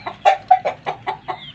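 A chicken gives a run of about seven short, clucking calls in an even rhythm, close by and fairly loud, with nothing else heard.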